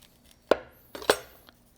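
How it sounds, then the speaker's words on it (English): A knife cuts a slit through the outer layer of an onion's skin, two or three short, sharp cutting taps close by in a quiet kitchen. "I cut a slit through the first layer of the onion, going down both sides"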